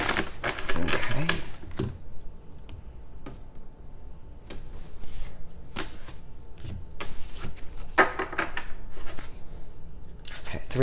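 Someone shuffles a deck of oracle cards close by, bursts of rapid riffling and flicking separated by short pauses, with a voice talking quietly in between.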